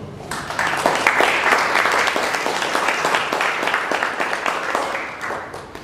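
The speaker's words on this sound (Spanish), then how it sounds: "a quien pido un fuerte aplauso" Sustained audience applause at a conference on comprehensive fiscal reform, dense steady clapping from a large crowd at close range, loud and unbroken throughout with no talk over it.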